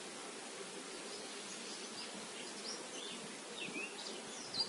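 Honeybees buzz steadily around an opened beehive during a chestnut honey harvest, making a dense, continuous drone with a few individual bees passing close.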